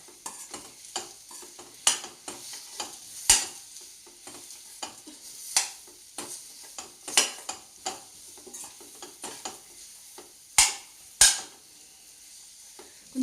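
Dates being fried in a pan until soft for dry-fruit laddus: irregular spatula scrapes and sharp metallic clinks repeat over a faint sizzle, close and uneven in rhythm, with no speech.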